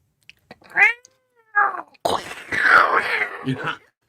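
A cat meows in several drawn-out, wailing calls, up close and loud, the later ones rising into a long caterwauling moan.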